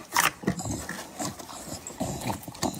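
Dogs making sharp, close sounds in a short burst of yelps or barks with rapid irregular scuffling and panting between them.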